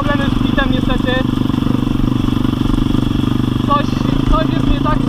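A 170cc motorcycle engine with a fault runs with a steady, rumbling idle throughout, close and loud, while someone talks over it in Polish.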